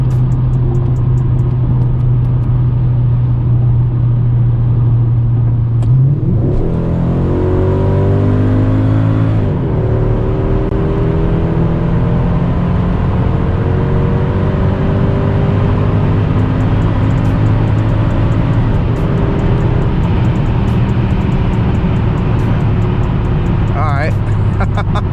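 Mercedes E55 AMG with a cold air intake mod on a hard 60 to 130 mph run, loud rising engine roar that climbs through a gear change and keeps pulling, heard from inside with voices mixed in.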